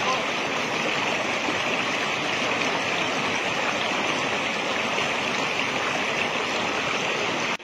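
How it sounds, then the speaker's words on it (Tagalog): A river stream rushes steadily and evenly, a constant full wash of flowing water with no breaks throughout. "tatawid lang kami ng ilog."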